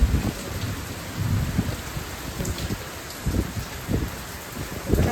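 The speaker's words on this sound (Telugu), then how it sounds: "ఫుల్ బ్యాక్ నుంచే రెయిన్, పెద్ద వర్షం ఉన్నట్టుండి స్టార్ట్ అయిపోతుందండి ఈ రెయిన్." Sudden heavy rain falling steadily with wind, punctuated by several low rumbling thunder swells recurring every second or so.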